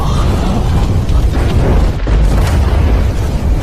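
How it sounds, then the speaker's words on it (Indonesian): Explosion erupts inside the Yin Puppet Sect in an animated martial-arts series, a loud, sustained rumbling boom that fills the whole stretch with dense low roar and crackle, no speech. "Terjadi ledakan dari dalam sekte boneka Yin."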